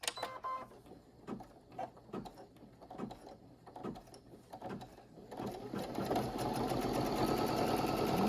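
Sewing machine stitching a trimming placement line on a small pillow project: soft rhythmic mechanical ticks at first, then a steady loud whirring run of stitching that continues to the end.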